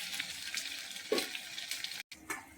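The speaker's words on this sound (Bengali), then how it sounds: "পেঁয়াজগুলো আমি একটু আগে লাল করে একটু ভেজে নেব" A soft, steady sizzle of onions frying in a pan, fairly quiet, with a few faint clinks and stirring sounds.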